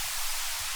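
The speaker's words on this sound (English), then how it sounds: "when you're dealing with white noise, I like to get it as spread as possible" Bright, hissing burst of white noise used as an effect in a music mix, with the low end thinned out so it sounds airy and wide, steady and fairly loud across the short moment, with no voices.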